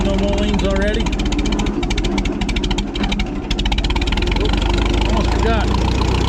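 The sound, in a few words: Minneapolis-Moline R tractor engine running in second gear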